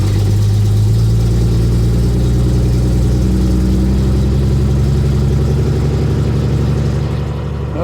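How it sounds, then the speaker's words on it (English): A 1966 Ford Bronco's one-barrel Ford 200 engine cold-starts and settles into a loud, steady idle with a deep, even drone that holds throughout, no voices. "The old Ford 200 might not be the strongest motor in the world, but she does start up pretty good."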